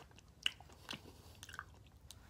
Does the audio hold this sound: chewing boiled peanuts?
yes